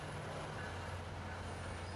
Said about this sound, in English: we arrived just in time to see a Baby Bullet Express train depart for San Jose